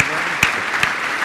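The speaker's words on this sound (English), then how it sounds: "Round of applause for our panel." Brief applause from a corporate innovation event audience for a panel, a dense steady patter with a few sharper claps standing out.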